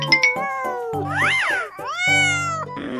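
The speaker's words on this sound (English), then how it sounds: "Two naughty cats." Two cats meow back and forth in a series of loud, close, drawn-out calls with rising and falling pitch, some verging on caterwauling, with no talk.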